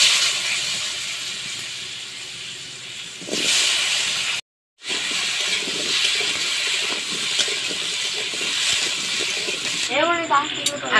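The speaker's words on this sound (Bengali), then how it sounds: "এরপর আমি আলুগুলো ভেজে নেব।" Potatoes frying in oil in a hot wok (kadai) over a lit stove, a steady broadband hiss and sizzle filling the clip, briefly cutting out midway, with a faint clink near the end.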